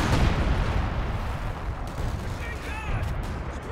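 Artillery fire rumbling through a Company of Heroes 2 battle: dense, low booming barrage that stays loud and continuous throughout, with a few brief higher whistling tones near the end.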